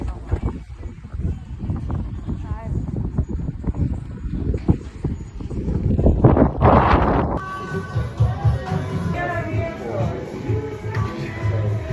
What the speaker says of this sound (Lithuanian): Baisiai vėjuota.